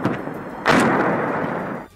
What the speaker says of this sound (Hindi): शाम के हल्के अंधेरे में रूस की तरफ से अज़ोवस्ताल स्टील प्लांट के आसपास बरसाए गए बम तेज चमक के साथ धमाका करते दिखाई दिए।